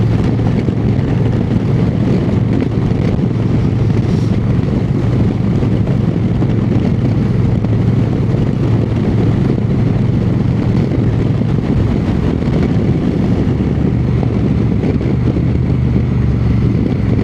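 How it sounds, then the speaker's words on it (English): Motorcycle on the move with a fairing and windshield, a loud, steady engine drone mixed with wind rush that holds constant throughout. "riding this kind of setup with this fairing and this windshield, the C5 is louder"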